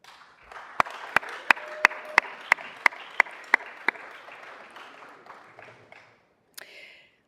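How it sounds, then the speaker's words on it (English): Applause from a city council meeting audience fills the room for about six seconds, a dense wash of clapping with several sharp, loud claps standing out near the start before it fades away. A brief rustle follows. "I believe that calls for a great round of applause"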